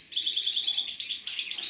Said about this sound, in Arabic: نجيب المقانن ونخليهم يغنيو